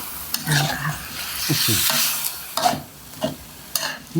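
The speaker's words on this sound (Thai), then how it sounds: "ใส่น้ำค่ะ ใส่น้ำลงไป นิดหน่อยค่ะ" Water is poured into a hot pan of Northern Thai mixed curry (kaeng ho), making a loud hissing sizzle broken by bursts of stirring and scraping.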